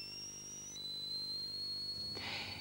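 A thin whistled tone imitating a nightingale's song but sounding like a policeman's whistle, one steady high note held alone and fairly faint, ending in a short hissy burst.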